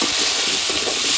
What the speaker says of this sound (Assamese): এতিয়া থৈ দিম মই ইয়াতে কাটি থোৱা আলুখিনি অলপ ভাজি লওঁ